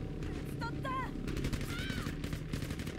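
Gunfire in the video game Battlefield V in a snowy blizzard battle: dense rapid shots crackle continuously under whistling and whining game effects, loud and busy, with no clear talk.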